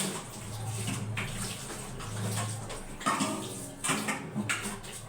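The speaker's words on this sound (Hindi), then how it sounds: "बर्तन मांज के आपसे मिलती हूँ।" Dishes are washed under a running tap, a steady close rush of water with occasional clinks and knocks of crockery, and no talking.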